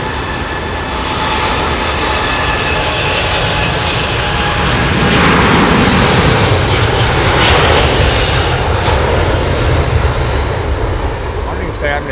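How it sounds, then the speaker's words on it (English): A loud, continuous Boeing Dreamliner jet engine growl at London Heathrow Airport, a deep rumbling roar that swells slightly in the middle and holds steady throughout. "the growl that we hear is literally the air, the ingestion of the air over the low pressure blades"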